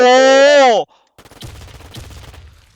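Pistol fire with an Asiimov skin in a shooter video game: after a short tonal sound and a pause, two sharp shots ring out close by over a busy game-noise bed.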